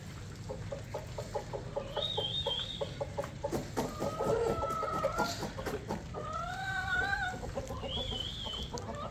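Backyard hens clucking steadily while being called to eat grain, with several birds chattering and a few higher calls standing out over a constant low outdoor hum; close by and no one speaking.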